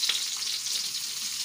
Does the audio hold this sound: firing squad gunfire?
no